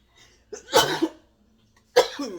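A few harsh, close coughs from spice seasoning in quick bursts, then a pause and another cough, with no talking.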